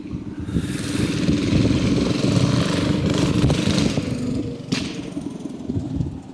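Motorbike engine passing or revving nearby outdoors, a loud rough buzzing drone that swells and fades, with a sharp clatter near the end.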